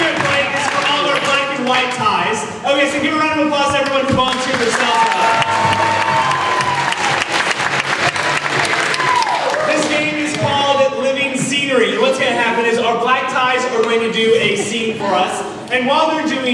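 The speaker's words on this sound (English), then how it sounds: "give a round of applause to everyone who volunteered to stop." Applause and cheering from an audience at a comedy alumni show, a loud, dense wash that continues throughout, with voices calling out over the clapping.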